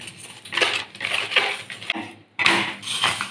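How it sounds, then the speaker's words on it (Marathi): A ragi flatbread laid onto a hot griddle gives short scraping, clattering contact sounds, close and moderately loud, in a few brief bursts with a quiet gap between them. "तवा गरम झाला. आपण भाकरी टाकूया."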